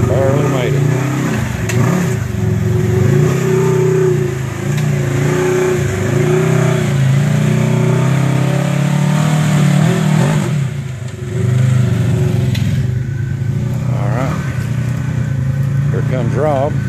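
A 1000-class off-road side-by-side engine revs hard and strains up a rugged trail at Windrock, a continuous loud motor drone rising and falling, with people talking over it throughout.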